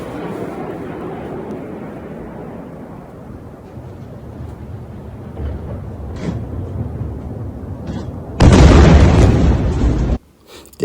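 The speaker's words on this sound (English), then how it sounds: "That's that was a missile that hit." A missile strike filmed in a news clip from the Iran and Israel conflict, heard as a sustained roaring rumble that swells into a loud, close blast near the end, then cuts out briefly.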